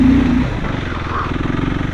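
A KTM 390 Enduro R single-cylinder motorcycle engine revving off-road, heard as a loud, close, pulsing drone with a rising whine at the start before it settles into a steady throb.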